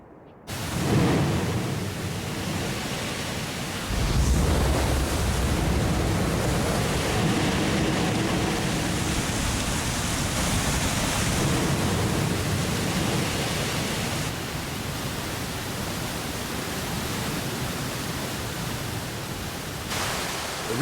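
Broad, steady rushing of the Orange River in South Africa flowing past, a continuous wash of water noise with no voices, holding even and fairly loud throughout.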